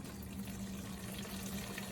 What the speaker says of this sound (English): I'm gonna fill this up.